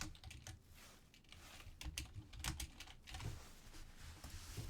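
Python code being typed on a computer keyboard, with a steady run of quick, close key clicks and taps at fairly even pace, with no speech.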